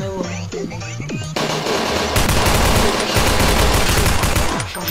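Dense, rapid gunfire from Blockade 3D bursts in loud and close after a brief stretch of game music, then roars on as continuous automatic fire to the end.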